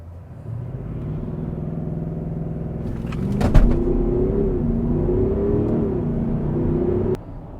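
A 2.5-ton SUV with a 4.0 V8 diesel accelerates hard, a low smooth engine drone swelling after a thump, heard from inside the cabin, steady and fairly loud until it cuts off abruptly.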